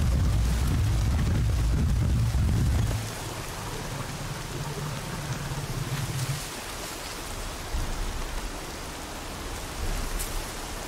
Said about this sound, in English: It's heavy with rain.